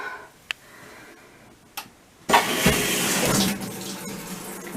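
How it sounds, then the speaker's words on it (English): A new washing machine starts filling with water: after a couple of faint clicks, a sudden strong hiss and rush of incoming water runs steadily and close by, fading slightly toward the end. "It's getting some water in there."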